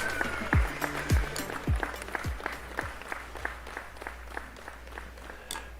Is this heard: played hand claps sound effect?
yes